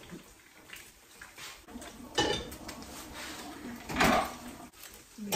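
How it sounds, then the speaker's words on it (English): Boiled potatoes strained from a pot in a home kitchen, with muffled metal clanks of pot and lid, a couple of louder scraping knocks and a faint watery rush, quiet and close. "my potatoes are fork tender, so I'm going to strain them"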